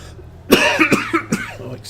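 A few short coughs in quick succession from a person with a sore throat, close and fairly loud, with a faint steady hum beneath.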